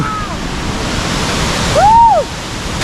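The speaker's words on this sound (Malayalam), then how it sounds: "അങ്ങനെ ഒരു അടിപൊളി ഒരു വെള്ളച്ചാട്ടമാണ് കിട്ടിയേക്കുന്നത്" Steady broadband rush of a waterfall on a mountain trek in the Parvati Valley near Kasol, where the falls split into three streams, roaring continuously with a brief whistle-like tone riding over it.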